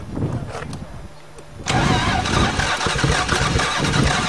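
A Toyota Camry V6 cranks after stalling, then catches and settles into a steady loud running rumble close by, with faint talk nearby.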